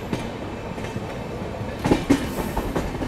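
Passenger train rolling through Junagadh railway station on the Bharat Gaurav tourist route, a continuous rumble with rhythmic clickety-clack of wheels over rail joints, loud and close, with no voices.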